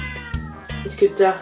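A Siamese cat meows several times up close, its plaintive, rising cries overlapping a woman's speech in a quiet indoor room.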